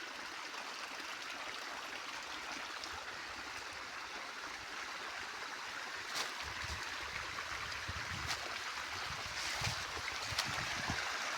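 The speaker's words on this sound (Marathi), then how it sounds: "इकडून चाललंय पाणी." Irrigation water runs through a channel in a freshly planted potato field, a steady outdoor rush and gurgle with a few louder splashes toward the end and no voices.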